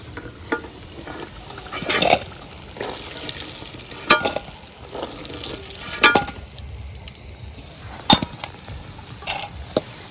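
Village-style chicken finger fry sizzling in hot oil, a steady crackling hiss with sharp scrapes and clinks of a spatula stirring against the pan, close and fairly loud, with no talk.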